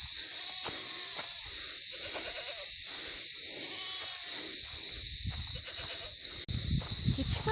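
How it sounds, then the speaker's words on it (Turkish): Repeated goat bleats sound out over a constant loud hiss, the calls spaced irregularly, followed near the end by a sudden thump and rustling. "Keçi."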